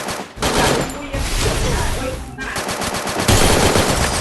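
Loud, rapid bursts of gunfire in Free Fire rattle almost continuously, with automatic weapon fire and a voice talking over it.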